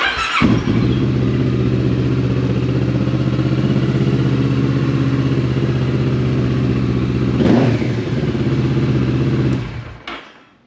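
A 2017 Kawasaki Z Ninja 650 motorcycle with a blown motor idles loudly and steadily close by, with a rough, clattering rumble and a brief rev near the end before it cuts off.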